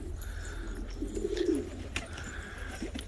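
Soft, low pigeon cooing rises in the middle, a throaty warble over steady background hum, with faint chirps nearby.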